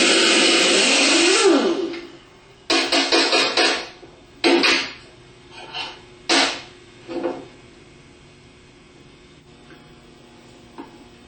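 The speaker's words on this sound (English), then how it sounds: "use a 1/2 inch impact with a 15/16 socket to remove the pulley nut" A 1/2 inch impact wrench with a 15/16 socket spins off an alternator pulley nut on a 130D alternator: one long loud rattling burst, then several shorter close bursts that fade to quiet.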